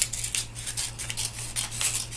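Scissors snipping through paper along a frame edge for a craft kit, a run of quick close cuts with crisp repeated blade strokes, no voices.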